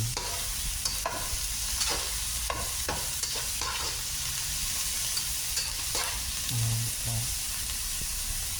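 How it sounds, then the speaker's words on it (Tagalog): Vegetables and eggplant sautéing in a hot pan, a steady close sizzle with occasional stirring scrapes and clinks running throughout, no voices. "gigisa ko po yung gulay dyan. Next to that po, ilalagay ko na po ang talong"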